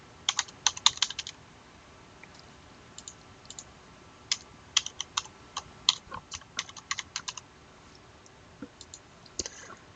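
Keys clatter on a computer keyboard in irregular bursts of quiet clicks, close and soft, with short pauses between runs of typing while a user logs into a medical chart tracking system over a secure connection.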